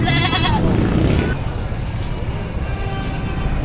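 Anglo-Nubian goats bleating at a livestock market in Padre Garcia, Batangas, one loud wavering bleat up close, followed by a noisy market din with people talking throughout.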